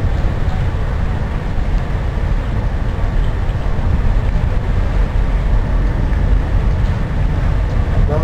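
Freight train with a long string of wagons rolling past close by, a loud continuous rumbling roar with rattling undertones that holds steady throughout.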